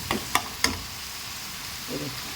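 Masala for an egg tawa dish fries in butter and oil on a tawa, a steady close sizzle broken early by three sharp scraping taps of a spatula and a faint clatter near the end.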